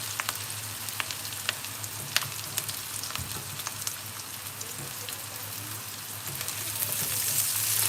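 Chopped onion sizzles in a pan for soyabean masala pasta, a close, steady crackle with scattered pops that swells louder toward the end.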